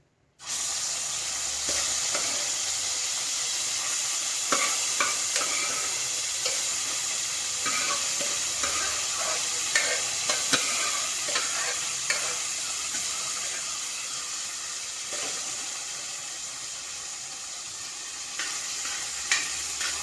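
Pumpkin pieces fry in hot ghee for pumpkin pradhaman, a continuous close sizzle with scattered scraping and clinking as a spoon stirs them around the pan, steady from start to finish.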